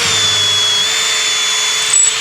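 A power drill bores straight through a piece of wood for a floating bench, a loud, steady, high-pitched whine held close and unbroken for about two seconds, ending with a short bump.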